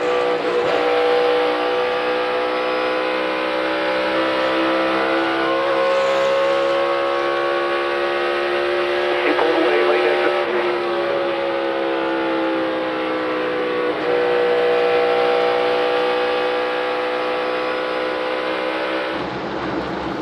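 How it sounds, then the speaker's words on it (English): NASCAR race cars accelerating at full throttle around the 1.5-mile Charlotte Motor Speedway oval, a steady loud engine howl with pitch rising and falling as cars pass, continuous for twenty seconds with no talk. "listen to these guys and how they're pedaling, driving these cars to the throttle around this racetrack."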